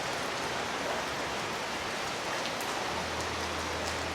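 Steady rain falls throughout in a mountain setting, a dense hiss of drops striking surfaces close by. A low hum joins partway through. No one speaks.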